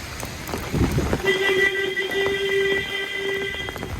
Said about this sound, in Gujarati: ફૂલ પવન વરસાદ દામનગરમાં